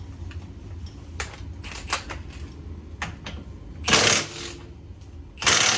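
A 1.25-inch axle nut is worked off a Honda Civic: scattered light metallic clicks and taps, then two short, loud bursts of harsh broadband tool noise close by, with no talking.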